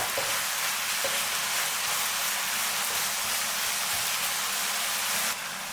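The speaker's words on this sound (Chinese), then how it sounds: "然后倒入我调好的料汁， 翻炒均匀" Tofu puffs are stir-fried with sauce in a wok, giving a loud, continuous hiss and sizzle with soft scraping from the stirring that carries on steadily and drops away at the very end.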